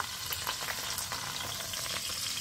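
Alpaca meat and chicken thigh pan-grilling over low heat beneath a weight, giving a constant soft sizzle with small crackling pops throughout, moderately quiet and with no talking.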